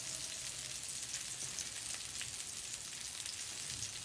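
Mushrooms sauté on a small outdoor electric hot plate, giving a steady bright sizzle with a continuous crackling hiss and no voices.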